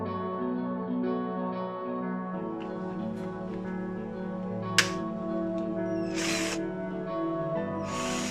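Cordless drill running on a repaired battery: a steady motor whine with harmonic tones, a short click, then a couple of brief bursts of louder whirring as the trigger is squeezed.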